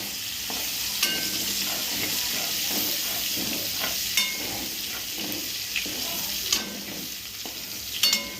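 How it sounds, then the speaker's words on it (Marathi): Crushed garlic frying in a pan for okra bhaji while being stirred: a continuous soft sizzle and hiss with periodic scraping stir strokes and a few sharp clinks, close but moderately quiet, no speech. "याच्यात हे कुटलेला लसण टाकू भाजलेला लसूण थोडा होऊ देऊ याला"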